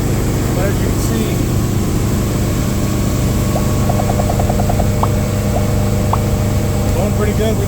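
Carbureted boat engine cruising at about 20 mph on the Gulf, a steady loud low drone with constant hum throughout, brief faint tonal chirps over it.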